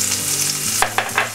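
Two medium chopped onions hit hot oil in a wok, giving a loud, steady sizzle with a few sharp stirring scrapes near the end and no voices.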